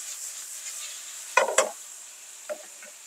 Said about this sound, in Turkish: şöyle bir çay kaşığı da paprika ekliyorum. Güzelce karıştırıp kapağımı tekrar kapatacağım.